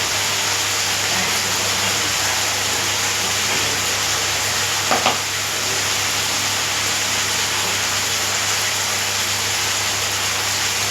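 Small cut pieces fry in a pan with a constant, moderately loud sizzle; a single brief knock sounds about midway, over a faint low hum, and no one speaks.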